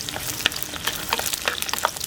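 Garlic, onion, green chilies and curry leaves sauté in a pan for a village-style dried fish curry, giving a close, lively sizzle and crackle with scattered spatter pops and stirring scrapes.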